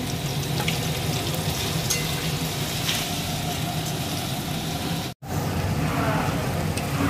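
Tomato, green chili and ginger-garlic paste fry in oil for a village-style curry, giving a steady, close sizzle with scattered crackles and a brief drop to silence near the end.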